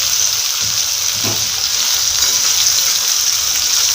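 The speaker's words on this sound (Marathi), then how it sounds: "आपण असं फ्राय करून घेऊया" Vegetables for a pulao fry in a pan, giving a loud, unbroken hiss of sizzling oil that stays level across the whole stretch, with no talking.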